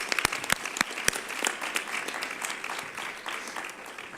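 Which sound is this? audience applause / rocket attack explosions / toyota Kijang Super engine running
audience applause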